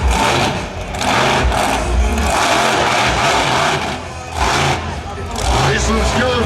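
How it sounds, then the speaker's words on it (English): A monster truck engine at a UK arena show fires up and revs hard in repeated loud surges, with a busy background of crowd and announcer noise. "Start your engine."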